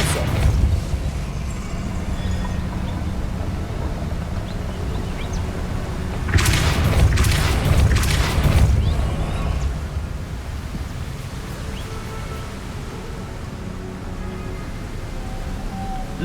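A Depulso force spell is cast in Hogwarts Legacy: a broadband magical burst with a rushing, crackling surge lasts a couple of seconds over a steady low ambient bed of game atmosphere.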